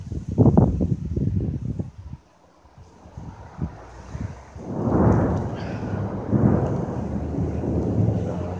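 Deep rumbles of thunder in a windy storm in Adelaide, Australia, roll in, swelling and fading twice in the second half after a stretch of low, muffled booming.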